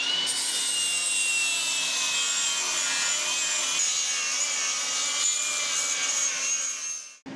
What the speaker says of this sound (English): I'm gonna go ahead and get this all cleaned up with an angle grinder